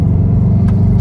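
A purple car cruises along with a steady, close, low engine rumble and no talking.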